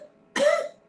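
A person's voice imitating a dog's dry hacking cough, a single short, harsh, rasping cough burst, close and loud, with no phlegmy or moist quality.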